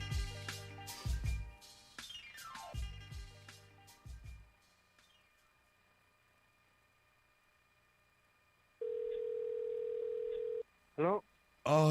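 A telephone dial tone sounds before a prank call, a steady flat tone lasting about two seconds after fading music, followed by short ringing bursts.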